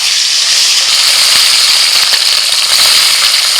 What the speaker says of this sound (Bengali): কড়াইতে তেল গরম হয়ে গেছে, এবার একে একে মাছগুলো ভেজে নেব।